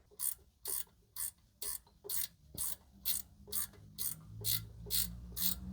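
A ratchet driving two 10mm screws to reattach the ABS bracket on a Jeep ZJ: about a dozen evenly spaced, crisp clicking bursts, close and fairly quiet, over faint background hum.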